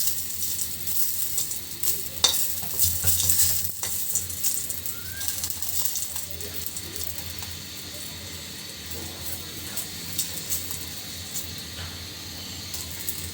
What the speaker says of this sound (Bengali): একদম শুকনো মরিচ দিয়ে ভাজি করে নিব, মাখো মাখো করে।